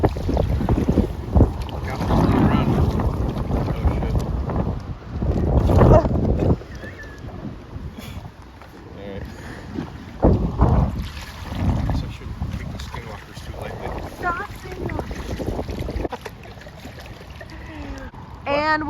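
A kayak moves down a river outdoors as gusts of wind buffet the microphone in loud, uneven surges. Soft water and paddle splashes sit underneath, and voices talk intermittently.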